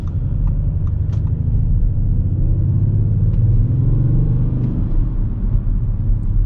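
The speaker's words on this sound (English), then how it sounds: "That sounds a bit like a 6-cylinder diesel" A 2020 Audi S6 TDI with a six-cylinder diesel engine gives a deep, steady rumble from inside the car while driving, holding a throaty low drone with mild swells and no talk.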